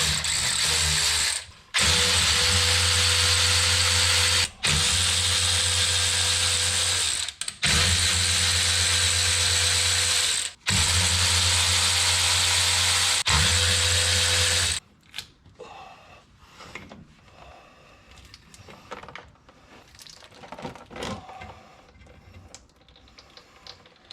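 Differential cover bolts on a 2008 GMC Sierra come off under a loud, whirring power tool in five long close bursts with brief gaps, followed by quieter clinking and handling noises.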